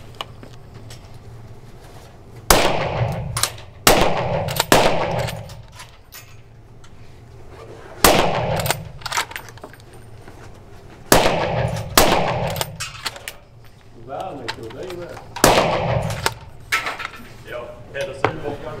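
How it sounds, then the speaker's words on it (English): Rifle shots during driven-shooting practice with a Vaughan SR10 pack, about six loud sharp reports at irregular intervals, each with a short decaying echo, and a quiet hum between them. "So I've just shot again with the Vaughan SR10 pack on"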